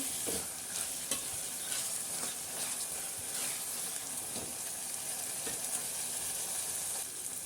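Tomatoes fry and sizzle in a pan for upma, a steady hiss broken by occasional scrapes and stirs, close and fairly quiet, with no talking.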